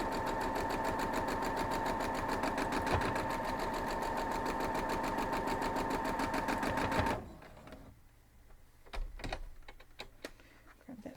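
A sewing machine stitches a quilt block seam in a steady, fast mechanical whir with rapid needle clatter for about seven seconds, then stops, leaving faint handling clicks and thumps.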